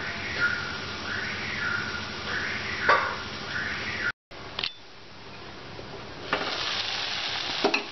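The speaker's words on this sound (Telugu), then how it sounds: "టమాటాలు కూడా కొంచెం మధ్య వరకు వేయించుకోవాలి." Tomatoes frying in a pan while cooking gongura chana dal curry, giving a steady close sizzle with soft stirring scrapes, a brief cut partway through, then more sizzling and clatter.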